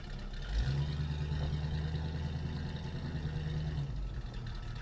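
A 1968 Pontiac GTO's 400ci V8 engine runs steadily with a low drone, rising briefly in a rev near the start. It is heard from inside the car, fairly quiet and without talk.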